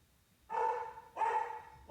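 A dog barks twice, two sustained, evenly spaced barks heard fairly close in otherwise quiet surroundings, with the start of a third at the end.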